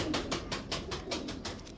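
Pigeon cooing in a steady run of soft pulsing calls, faint and fairly close, from a pigeon kept at home, with no voices over the calls.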